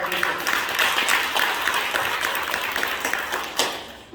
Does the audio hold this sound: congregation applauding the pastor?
yes